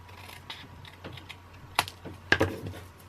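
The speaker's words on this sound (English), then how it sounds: "Trim off the edges so I've got a nice clean panel." Trimming the edges of a card panel with a paper trimmer: a few soft ticks, then two sharp, crisp cutting snaps close by in a quiet room, no talking.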